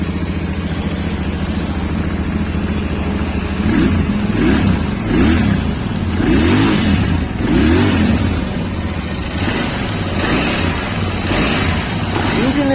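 Royal Enfield Interceptor 650 motorcycle, 2022 model with a single exhaust, idling with a steady low engine and exhaust note and a few brief revs swelling and falling, close by.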